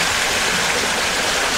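Water flows steadily outdoors, a dense, constant rushing close by with no pauses and no talk.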